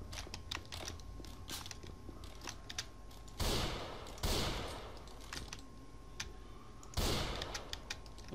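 Sniper rifle fire in the zombie shooter Left 4 Dead 2, three loud broadband cracks spaced a few seconds apart over a busy bed of rapid clicking and distant game noise.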